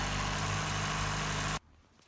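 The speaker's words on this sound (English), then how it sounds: "This buzzing sound came from small holes in exhaust system." Ford Escort Mk3 with a 1.3 CVH engine and small holes in the exhaust system gives a steady, loud buzzing drone under the idling engine, then cuts off abruptly near the end.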